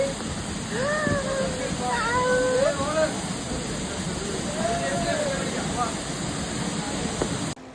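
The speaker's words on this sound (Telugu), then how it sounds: "వాటర్ ఫాల్ అయితే చాలా బాగుంది" A waterfall in Chikkamagaluru during the monsoon roars steadily and loudly throughout, with a voice calling out briefly over the constant rush of water.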